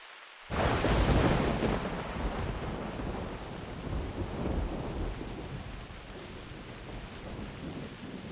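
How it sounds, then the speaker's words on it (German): Heavy rain and rolling thunder from a stormy scene in the hunting game The Hunter Primal, starting abruptly after a brief silence and staying loud and steady, a dense wash of downpour with deep rumbles underneath. "Ich höre aber null durch den scheiß Regen"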